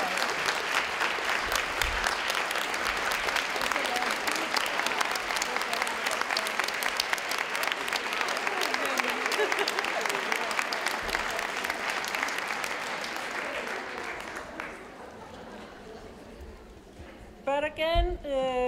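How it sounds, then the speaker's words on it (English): Sustained applause from a large audience at a women's rights NGO forum closing ceremony fills most of the stretch, dense and steady, then fades away. A voice begins speaking at the very end. "I would like them to stand up and for us to give them a good applause"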